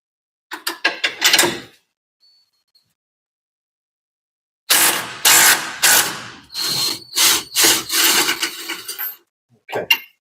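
A socket wrench with an extension works on an 11/16 airbag fitting, giving rapid ratcheting clicks in short bursts separated by silent pauses, close and crisp.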